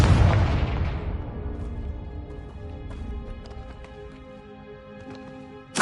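A Confringo blasting spell in Hogwarts Legacy sets off a loud, deep boom that rumbles and slowly fades over several seconds, with scattered light clicks and game sounds afterward and a sharp hit right at the end.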